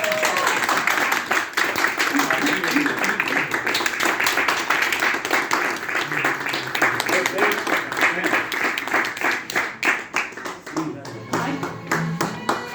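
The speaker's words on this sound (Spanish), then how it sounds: "¡Aplausos!" Rhythmic group clapping and applause at a book presentation in a publisher's event space, loud and close, with steady beating hands and voices calling out over it.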